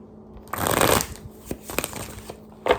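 Tarot cards are shuffled in a few quick riffling bursts, close and fairly soft, with brief pauses between them.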